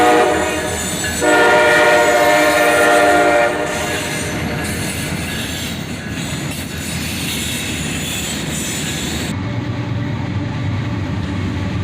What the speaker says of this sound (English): we catch this train with 3 EMD locomotives